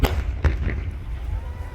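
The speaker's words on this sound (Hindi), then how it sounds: "आग की वजह से बम की तरह सिलेंडर फटते हुए नजर आए हैं" A sharp, booming blast of a gas cylinder exploding in a burning truck at a gas agency bursts out near the start, followed by a second thud and rumbling crackle of the fire, loud and close.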